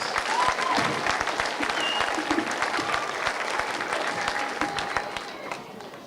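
Concert audience applauding after a performance, a full, steady roar of clapping from a crowd that stays strong throughout and fades slightly at the very end.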